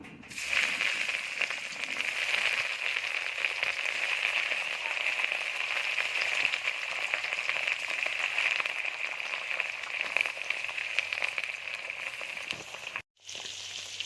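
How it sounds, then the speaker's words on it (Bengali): Rohu fish crackling and sizzling in hot oil, a dense, even frying hiss that runs continuously before stopping abruptly near the end. "মাছগুলো ভাজা হয়ে গেছে উল্টে দিয়েছি"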